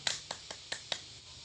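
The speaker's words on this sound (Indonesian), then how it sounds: "Silakan beri tepuk tangan." A few quiet, sparse claps in a classroom, five separate hand claps spaced unevenly over a second and a half with no crowd buildup.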